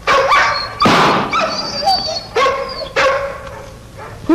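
A dog barks loudly and close in a run of about six sharp barks with short gaps, mixed with whimpering yips between them.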